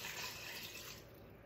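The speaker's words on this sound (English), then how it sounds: "I'm gonna pour in, I've got 2 cups of water." Two cups of water pouring into a soup pot for a creamy chicken soup, a steady close splashing rush that eases slightly toward the end, with no talk.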